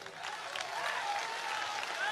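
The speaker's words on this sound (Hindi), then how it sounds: "बजाओ ताली।" An audience claps steadily and fairly loudly for about two seconds at an event, with broad even clapping and no break.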